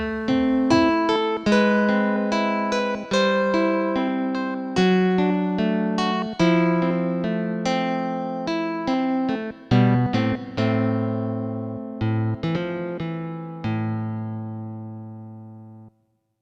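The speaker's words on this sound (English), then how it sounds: "And that gives us our guitar sound." A plucked, guitar-like melody from a Studiologic Sledge synthesizer with reverb, played as a steady run of notes with lingering tails, loud and alone, fading at the end.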